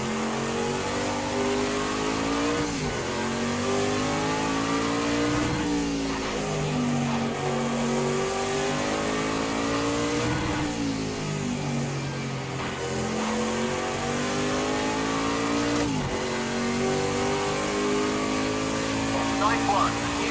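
Prototype race car engines in the racing game Project CARS 2, heard as a loud, high-revving engine climbing through gears in repeated rising sweeps with sharp shift breaks, while someone talks over it.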